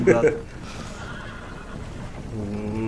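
A horse in the video game Red Dead Redemption lets out a brief, close whinny at the start, followed by quieter game ambience, with someone speaking over parts of it.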